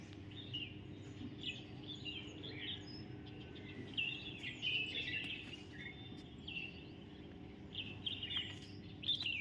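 Rose-ringed parakeets call from guava trees in short, shrill chirping bursts spread through the stretch, moderately distant over a low steady hum and faint insect noise.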